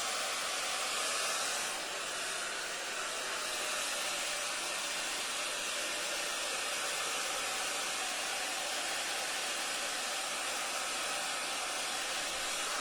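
Hair dryer fitted with a diffuser drying a child's curly hair, a steady, loud airy whoosh running unbroken throughout with no voices.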